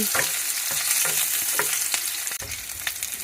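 Onions frying in a pan for shrimp sinigang, sizzling and splattering steadily with repeated stirring scrapes close by.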